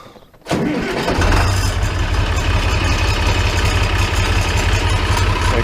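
A Farmall 806 tractor engine cranks briefly and catches, then settles into a loud, steady low rumble that runs on without a break.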